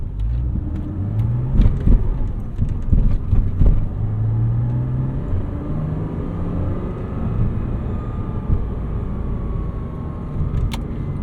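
A 2009 Porsche Cayman S rolls into a parking lot, its engine a low, steady rumble with light throttle swells and a few faint clicks and knocks over the drone.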